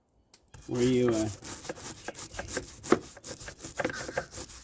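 A hand tool rubs and scrapes in short strokes, cleaning a boat deck around a cleat. The scraping is close and uneven, and the strokes come in an irregular rhythm.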